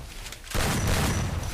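A sudden burst of rapid gunfire in the Free Fire video game erupts after a quiet moment and continues as a dense, loud volley.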